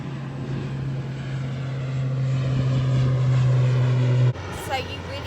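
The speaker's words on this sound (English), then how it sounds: "There's another plane." An airplane passes overhead on an island, a steady droning hum that swells slightly louder before cutting off abruptly near the end, heard at a distance under a faint outdoor background.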